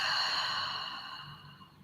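A slow, audible yoga exhale, a long breathy sigh that starts strong and fades over about two seconds, close to the ear and with no talking.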